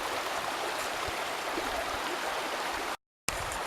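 Creek water rushes steadily after a flash flood, a constant broadband flow close to the microphone, broken by a brief dropout near the end.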